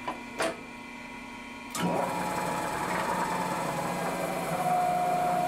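A milling machine at 600 RPM with a coated end mill takes a cut about 1/16 inch deep per side, giving a steady mechanical hum and whir that grows louder after a couple of sharp clicks, then holds at an even level.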